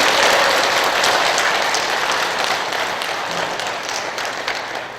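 A church congregation gives gentle applause at a Catholic charismatic gathering, a soft, steady patter of many hands that holds through the moment and slowly tapers, with no voices over it.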